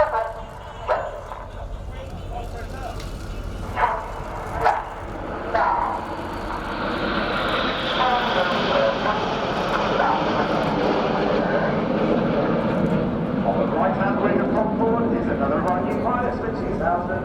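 Red Arrows jets at the Royal International Air Tattoo air show, a rising roar that swells and holds loud over the latter half, with a commentator and dog barks in the first seconds.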